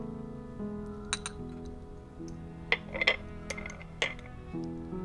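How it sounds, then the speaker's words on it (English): A spoon clinks against a glass while stirring a kiwi, mango, coconut milk and honey drink, sharp irregular taps in small clusters over a soft background hum. "So you can just mix like this until all ingredient is mixed."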